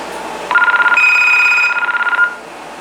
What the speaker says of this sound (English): let's go ahead and ring this thing up using my famous smartphone